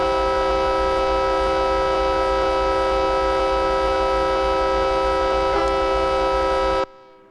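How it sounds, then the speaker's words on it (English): A diesel locomotive horn from an SD70MAC in Train Simulator 2018 blares as one loud, sustained multi-tone chord lasting nearly seven seconds before cutting off sharply, with no voices present. "A very important tool of the engineer is a horn. It's used to warn those ahead that a train is approaching."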